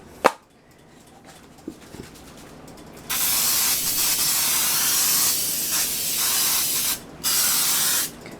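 A steady aerosol hiss of cooking spray on a cake pan sprays for several seconds, pauses briefly, then resumes in a short burst; close and fairly loud, no talking.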